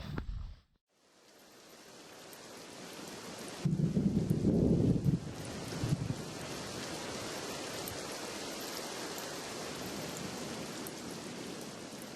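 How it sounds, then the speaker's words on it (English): Light rain hisses in a steady, soft wash outdoors, with a brief low rumble partway through and no voices. "A little bit of rain's nothing."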